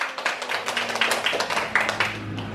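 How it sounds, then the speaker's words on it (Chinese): Applause from a volunteer group at a monthly meeting as an elderly guest is welcomed to speak, steady overlapping hand claps filling the room, close and fairly loud throughout. "大家鼓掌。"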